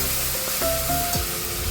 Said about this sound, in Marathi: हे त्याचं वाटण मी पुन्हा तेलामध्ये टाकलेलं आहे। तेलाचं वाटण आपल्याला चांगलं परतून घ्यायचं आहे